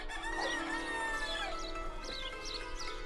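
Chickens cluck while a rooster crows on an Eastern European farmstead, the fowl calls rising repeatedly over a steady background of farmyard noise, fairly close and moderately loud.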